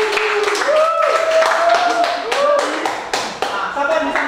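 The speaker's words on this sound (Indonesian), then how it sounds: "Beri aplaus." A classroom of students bursts into applause, a dense, loud patter of clapping hands lasting a few seconds, with voices talking over it.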